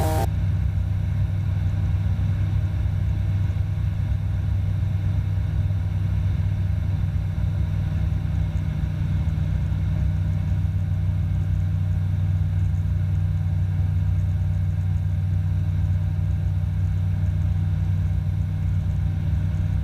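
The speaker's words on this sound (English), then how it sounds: "Just adding a little bit more throttle there." A light aircraft engine drones steadily during an introductory flight lesson near Midland/Huronia Airport, its constant loud hum building slightly as throttle is added, with no talk.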